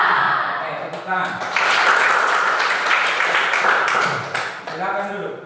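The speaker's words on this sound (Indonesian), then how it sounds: "tepuk tangan" A classroom group of students breaks into applause: a dense, continuous wash of many hands clapping close by, with voices mixed in.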